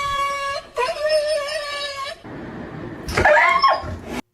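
A dog lets out drawn-out, wavering howls and whimpers, loud and close, with a short pause between two cries.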